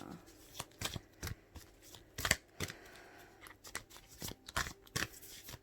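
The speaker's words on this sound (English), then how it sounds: "I'll shuffle these cards here." Cards being shuffled in repeated quick riffles, crisp and close, with brief pauses between bursts.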